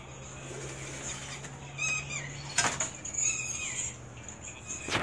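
Male racing pigeons from the 2017 competitions take off from a rooftop in Gujrat, Punjab, their wings flapping in a few fluttering bursts over a low steady hum, with a brief closer whoosh near the end.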